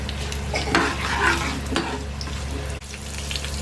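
Green chillies fry with a steady, close sizzle in a pan while a utensil stirs and scrapes through them, with no talking.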